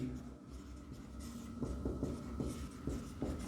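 Chalk or marker taps and scratches in short strokes on a board during a physics lecture on electric field lines, a quiet, irregular series of writing sounds in a room.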